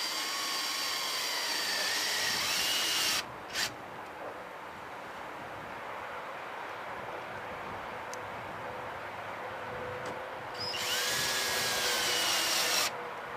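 A power drill drives lag bolts to fix a railing bracket to a post. A continuous whirring motor runs for several seconds, stops briefly, then resumes with a higher-pitched burst near the end, close and loud with no speech.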